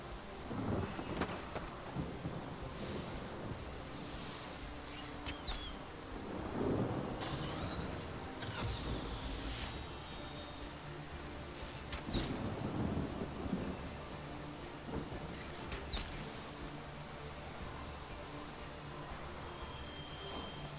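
Rain spell with thunder cast in the video game Divinity: Original Sin, a continuous loud wash of rain with repeated rumbling thunder swells, alone without talk.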